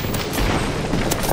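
Airstrike explosion in Apex Legends, a heavy booming blast with rumbling low-end that fills the full short stretch, loud and close.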